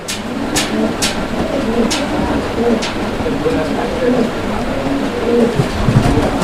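Pigeons at a pigeon sale cooing close by in repeated soft rolling calls, with a busy background murmur and a few sharp knocks.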